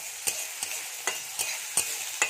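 Boiled potatoes and soaked chickpeas fry in a pan in a village kitchen, a steady sizzle broken by regular stirring scrapes about every half second, close and clear with no talk.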